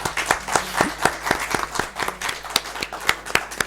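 Sparse audience applause at the close of a lecture, a handful of distinct claps in an irregular, moderately paced rhythm, fairly close and without speech.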